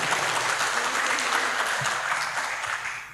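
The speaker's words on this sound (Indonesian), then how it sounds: "Tepuk tangan." Dense, sustained applause from a seated audience at a corporate kick-off meeting in Indonesia, many hands clapping evenly and fairly close, slowly thinning toward the end with no talk over it.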